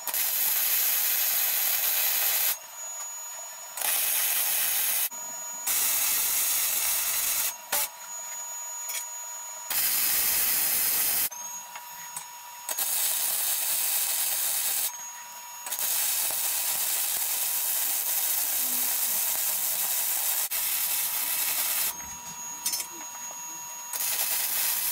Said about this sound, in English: I am going to spend some time welding the backside out a little bit on the edges there